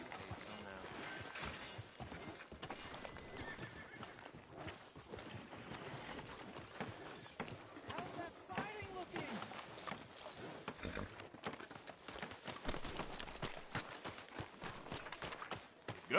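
Horse hooves clip-clop at a steady walking rhythm in a Red Dead Redemption 2 town street, mixed with game ambience and voices talking over it throughout.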